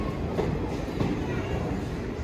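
Near Amritsar, a train rolls into the station with a steady close rumble and faint clattering of wheels on the rails, and no voices are heard.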